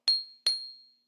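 A mallet striking the highest handbell twice in quick succession, each hit a sharp, bright, close ping that dies away almost immediately, alone without talk.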